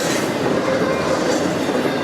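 A freight train passes on the Henderson subdivision near Hanson, Kentucky, a loud steady rumble of rolling cars close by with faint wheel clatter throughout.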